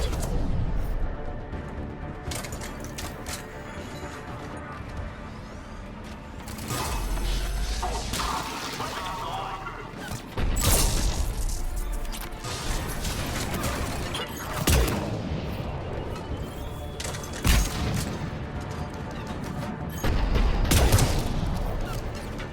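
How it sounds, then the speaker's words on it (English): Heavy cannon fire in the Mass Effect video game, with repeated booming blasts at irregular intervals over a dense, continuous battle din. There is no speech. "The cannon fire is clearing the way."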